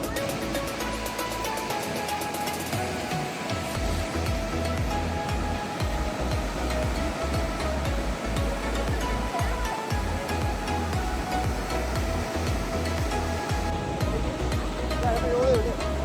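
A loud, continuous roar of a small, milky-white mountain river rushing in Manang, Nepal, fills the whole stretch, steady and close, with a voice faintly audible beneath it.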